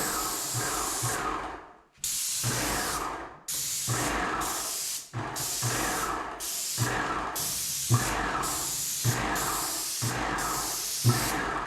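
A paint sprayer lays a primer coat on mobile home cabinets in repeated steady hissing bursts of a few seconds each, separated by brief gaps, close and loud, with no talking.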